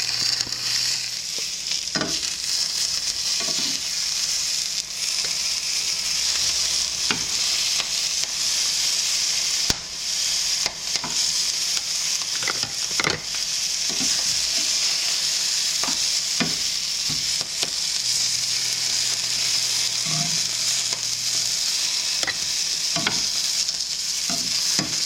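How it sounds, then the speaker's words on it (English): Sliced banana peppers and garlic cloves fry in a pan for homemade hot sauce, giving a steady, loud sizzle with occasional stirring clinks and no talking. "I'm gonna add about 2 garlic cloves and let this kind of cook for another 2 to 3 minutes with the garlic"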